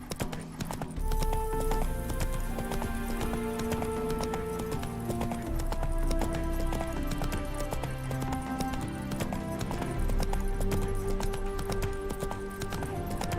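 Hoofbeats of a horse galloping in The Witcher 3: Wild Hunt, a steady fast clip-clop running continuously and fairly close over a dense game soundtrack, with a faint shout from the rider at the start.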